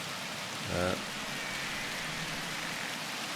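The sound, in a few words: rain falling in the video game 35MM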